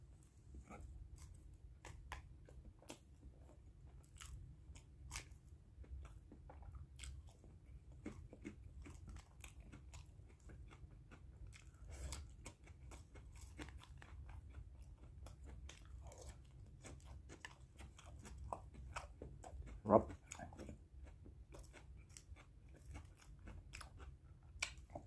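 Crunchy vegetable salad being chewed up close in a quiet hotel room, a faint, steady run of soft bites and crunches lasting the whole stretch, with one sharper crunch near the end.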